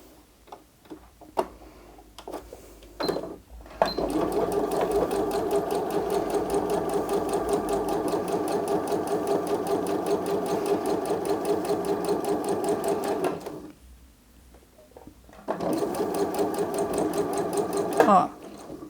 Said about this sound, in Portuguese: é só parar a agulha, erguer o calcador e virar, que você consegue seguir com a costura normalmente